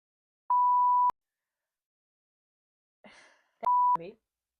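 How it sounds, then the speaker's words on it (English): Two steady censor beeps, the first alone and the second cutting over a person's speech, with brief talk around it. "We're gonna beep out these names"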